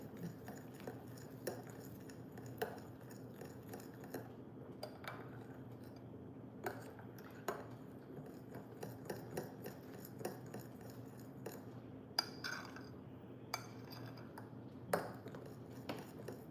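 A spoon stirs strawberry chia pudding in a glass container, soft repeated scraping and light clinks of metal on glass, quiet and close with steady background hum.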